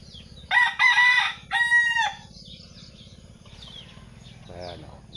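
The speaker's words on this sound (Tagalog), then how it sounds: "iba yung tilaok niya oh" A rooster crows once nearby, a loud, drawn-out call in several rising and falling parts, followed by quieter background clucking and low rustling.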